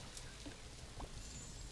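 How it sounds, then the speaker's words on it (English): Quiet rain falls in the Planet Zoo video game, a faint, even hiss of drops with a few small splashes, heard alone without talk. "Hiding from the rain."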